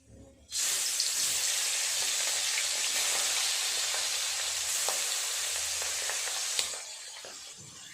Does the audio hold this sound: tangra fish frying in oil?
yes